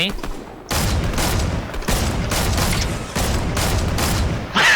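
Rapid bursts of gunfire in the video game Fortnite, several loud, dense volleys back to back with brief gaps between them.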